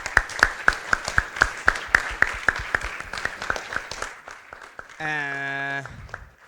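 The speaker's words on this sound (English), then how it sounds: "We give you an applause." Scattered applause at a quantum computing event, a few distinct claps at a steady rhythm that thin out and stop, followed by a brief tonal sound.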